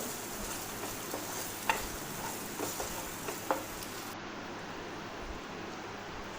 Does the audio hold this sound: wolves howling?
no